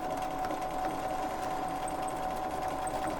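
A sewing machine stitches steadily along a seam line while quilting as you go, a fast, even mechanical whir heard up close and alone throughout.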